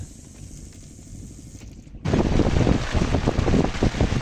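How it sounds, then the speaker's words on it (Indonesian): Rain beginning with gusting wind outdoors on a fishing trip: after two seconds of quieter breezy rustle, a loud steady wash of wind and rain noise buffets the microphone continuously. "Sekarang lagi udah mulai hujan, tambah angin."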